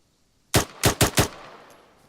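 In the video game Arma 3, on a 3CB mission, four sharp gunshots ring out in quick succession, loud and close, followed by a fading echo.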